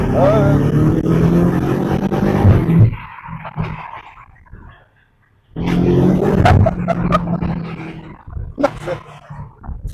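A BMW M5 Competition roars hard under acceleration, loud and close, in two surging bursts split by a brief near-silent lull, with people talking over the engine.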